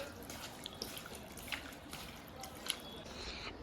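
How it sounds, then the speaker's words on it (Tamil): Mutton being washed a second time in water with turmeric powder and salt, giving soft, steady splashing and trickling with a few brief drips throughout, fairly faint and close, with no talking. "இப்போ மட்டன் வாஷ் பண்ணிக்கலாம் இப்போ செகண்ட் டைம் வாஷ் பண்ணுறாரு"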